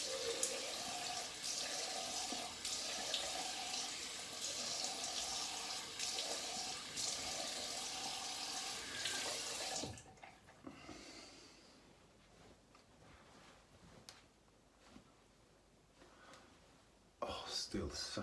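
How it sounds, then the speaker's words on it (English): A tap runs steadily while alum is rinsed off freshly shaved skin. The water noise stops partway through, leaving soft handling sounds and a brief splash at the end. "so I'll rinse the alum off now"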